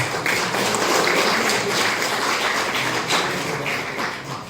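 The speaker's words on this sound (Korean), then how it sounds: "박수 부탁드립니다." Audience applause at a Hangul Day celebration ceremony, dense sustained clapping from a large crowd lasting several seconds, loud and even before tapering slightly.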